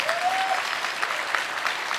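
Light, sparse applause from an audience at a literature festival in India, fairly soft and brief, a thin patter of clapping that fades out.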